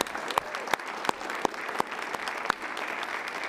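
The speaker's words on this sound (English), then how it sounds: "Could we please give them a round of applause for their outstanding effort?" A crowd at a city council meeting claps steadily, with a few louder individual claps standing out in the continuous applause.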